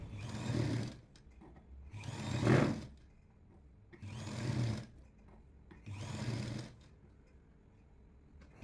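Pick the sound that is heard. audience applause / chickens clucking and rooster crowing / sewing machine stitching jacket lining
sewing machine stitching jacket lining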